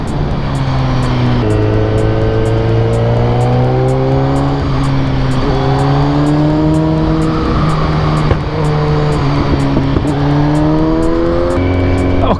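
Cars on a mountain road heading toward Monte Grappa, heard from inside a moving vehicle: a loud continuous engine drone with rising and falling harmonics as gears shift and speed changes, steady and close throughout.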